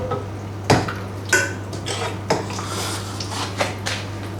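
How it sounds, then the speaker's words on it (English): Lasagna sauce is stirred in a pan, a spoon scraping and knocking against the pan in a few distinct clinks and taps spaced about a second apart over a low steady hum. "Give that a good mix round."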